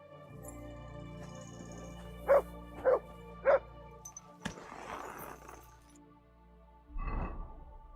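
Three quick, loud dog barks from a pet dog in Kingdom Come: Deliverance II ring out close by in a quiet outdoor scene, followed by softer rustling and a low gruff canine sound near the end.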